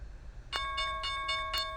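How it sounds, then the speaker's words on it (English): A stock market closing bell rings in a quick series of repeated strikes, fairly faint against a quiet background, with no talking. "the bell's about to go off right now"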